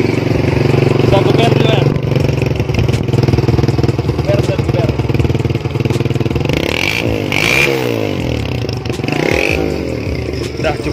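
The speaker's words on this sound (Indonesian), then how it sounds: "Inilah penampakan suaranya dari motor C70." An old Honda C70 motorcycle engine idles steadily and loudly nearby, its lumpy mid-range chugging continuous throughout, with a few throttle blips and brief speech over it.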